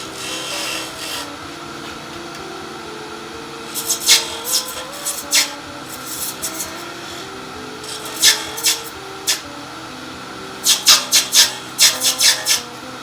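A ball gouge cuts an acrylic pen blank spinning on a wood lathe, giving a steady hum with repeated sharp scraping, rasping bursts close by, clustering into rapid strokes toward the end.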